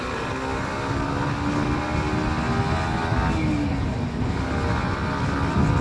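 A Kawasaki Ninja 125 motorcycle engine hums steadily at around 7,000 RPM, a continuous droning tone that rises slightly in pitch partway through, with no talking over it.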